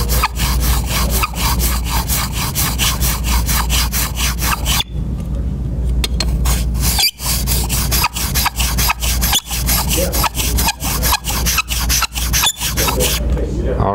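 Card scraper honed on a sharpening stone at its last grit, loud rhythmic rasping strokes back and forth, close and steady, with a brief pause midway before the strokes resume.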